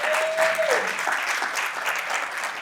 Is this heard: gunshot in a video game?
no